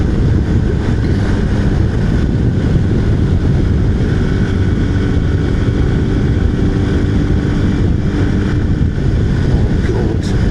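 A small Honda Cub motorcycle engine being pushed hard on a road ride, a steady loud buzzing drone smeared by heavy wind rush across the microphone, with no talking.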